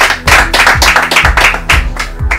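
A small group claps for a secondary school contestant on a children's quiz game show: loud, close hand claps in uneven bursts, with a few distinct heavy claps standing out over the rest.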